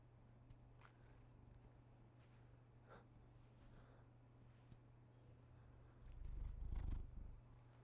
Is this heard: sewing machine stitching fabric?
no